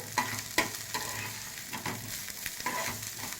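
Ridge gourd peel and other chutney ingredients fry in a pan, a steady sizzle broken by repeated sharp scraping clicks of stirring, close and moderately loud with no voices.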